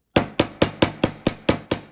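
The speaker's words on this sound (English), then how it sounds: "And now we're going to hammer the other side." Eight sharp metallic hammer strikes on wire, flattening it for a ring, in a steady, even rhythm, close and loud, each ringing briefly before the next blow.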